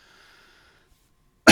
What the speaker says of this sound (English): I've still got the cough